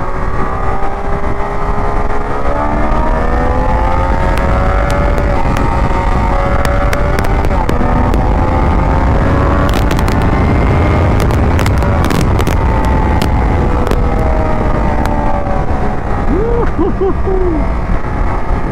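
A Triumph Daytona 660 motorcycle engine sounds loud and steady throughout as the bike is ridden, its pitch climbing and falling with revs, with wind rushing over it.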